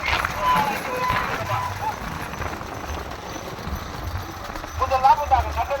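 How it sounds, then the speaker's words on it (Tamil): Racing bulls pulling carts in a Tamil Nadu bullock cart race pound past with a steady clatter of hooves, heard from the roadside under a loud commentator's voice and crowd noise. "முதல் பெரிய மாட்டு மல்லையா முனி குமராபுரம் ஓட்டி வருகின்ற"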